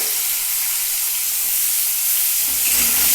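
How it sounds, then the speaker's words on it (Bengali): Onions sizzling and hissing in a hot pan while being fried until reddish, a steady close bright crackle throughout with no talking. "পেঁয়াজটা একটু লাল লাল করে ভেজে নিচ্ছি"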